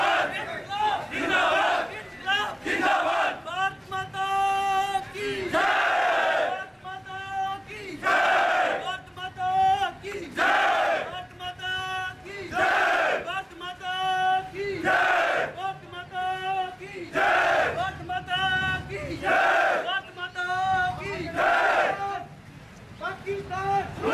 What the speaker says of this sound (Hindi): भारत माता की जय, शहीद नरेंद्र सिंह अमर रहें, जब तक सूरज चांद रहेगा शहीद नरेंद्र सिंह तेरा नाम रहेगा के गगनभेदी नारों के बीच